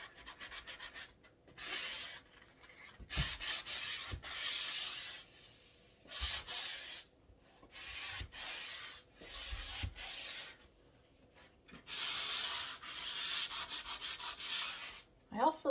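A sanding sponge rubs over painted wooden trim in repeated strokes, a close, quiet, rhythmic scratchy hiss with brief pauses between passes.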